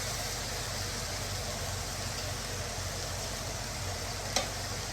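Meat cooking in a pan on a gas stove, a steady, loud sizzle and hiss throughout with one brief clink near the end.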